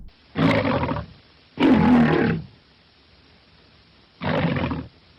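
Three separate deep roars from Jackie, the lion famous as the MGM mascot, each about a second long and loud, split by short silences with nobody talking.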